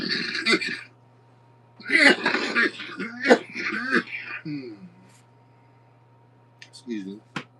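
A man inside a camper clears his throat and coughs in several rough, close bursts separated by short pauses.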